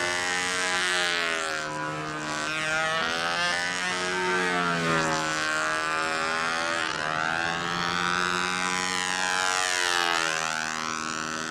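A Rojett 90 model jet flying overhead with its motor running, a loud continuous high whine that rises and falls in pitch as it banks and passes, sweeping steadily without any voices.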